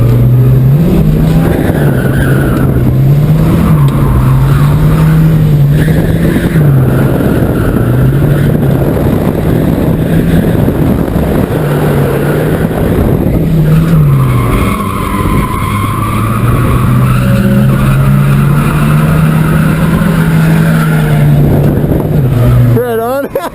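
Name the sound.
automatic Volvo 740 Turbo drifting, tires skidding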